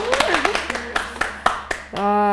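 Applause at the end of a round of a studio quiz show: a short run of sharp, evenly spaced handclaps, close and fairly loud, followed by a sustained tonal sound as a voice comes in.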